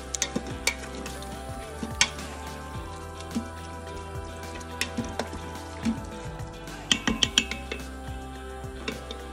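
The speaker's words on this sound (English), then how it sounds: "Then stir and then cook for 2 minutes." A sauerkraut mixture sizzles gently in a pan as it is stirred, with soft scraping strokes and occasional light clinks of the utensil against the pan over a steady low fry, with no talk.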